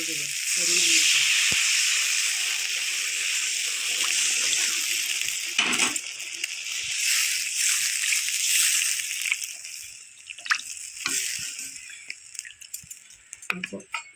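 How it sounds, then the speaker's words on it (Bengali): Water poured onto spices and potatoes frying in a pan for a duck egg curry sets off a bright sizzling hiss that starts strong and gradually dies away, with a few faint clinks. "আমি এখন জল দিয়ে দেবো পরিমাণ মতো"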